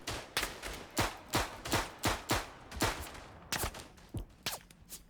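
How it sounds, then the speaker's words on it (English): Repeated gunfire in the WWI shooter Verdun, a dozen sharp shots in an uneven rhythm, some close and loud, others slightly farther, cracking through a noisy battlefield background with no voices. "Now we're getting shot from behind."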